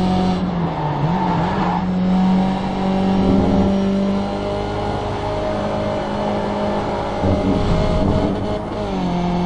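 A race car engine in iRacing at Watkins Glen drops from fifth to third, the revs blipping and shifting pitch through the downshifts as the steady engine drone continues, loud and close, with no talking.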